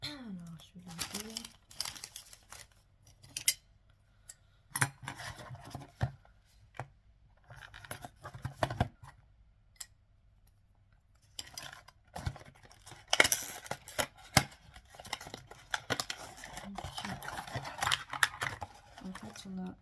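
A package being opened during a shopping haul, with crinkling plastic and paper, tearing and small handling clicks up close, heard under and between a woman's French speech.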